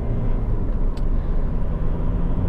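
Honda CR-V 2.2 i-DTEC diesel 4x4 station wagon driving, heard from inside as a steady, loud low engine and road rumble with no voices.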